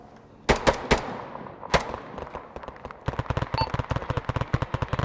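Gunfire erupts around a base in the video game Arma 3, a few sharp separate shots followed by a rapid sustained burst of many cracking rounds, loud and close.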